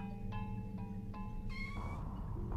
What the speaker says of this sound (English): I'm meowing at the top of my lungs, pretending the echoes belong to someone I used to know.